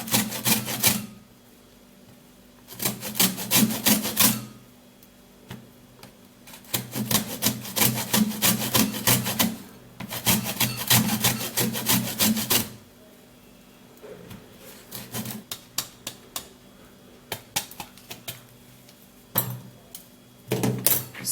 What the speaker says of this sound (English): it's strong, so you would have to grate it. Yeah, and get the zest.